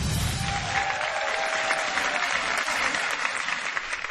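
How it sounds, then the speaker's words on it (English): Warm audience applause at a stage show, a dense steady clatter of many hands clapping, sustained throughout at an even level. "For that nice warm applause and keep it coming"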